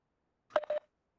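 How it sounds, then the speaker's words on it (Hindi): A short two-part electronic tone sounds from a phone being unmuted on a call, clean and isolated against silence. "फोन अनम्यूट किया जा रहा है अभी।"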